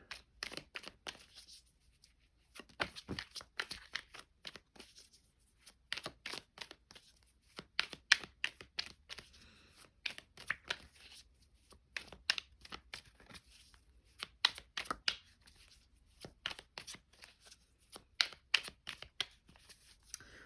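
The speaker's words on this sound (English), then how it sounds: "looking at these, excuse me, goddess cards up here as I'm shuffling" A stiff deck of goddess oracle cards riffled and shuffled in quick, crisp bursts, recorded up close with short pauses between rounds and no talking.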